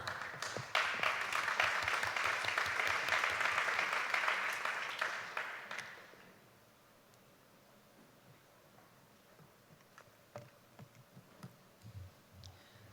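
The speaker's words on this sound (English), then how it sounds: "Please give her a warm round of applause." Audience at a philanthropy summit conference panel gives a warm round of applause to welcome a speaker, dense clapping for about six seconds that tapers off into a quiet room with a few scattered late claps.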